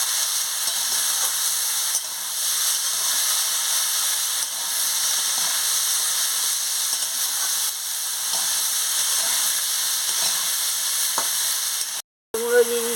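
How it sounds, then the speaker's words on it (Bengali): Mixed vegetables for Bengali chorchori sizzle and hiss steadily in a hot pan as they are stir-fried, a loud, constant frying noise that ends with a brief clatter. "এই সবজিগুলোকে ভালো করে কষিয়ে নিচ্ছি"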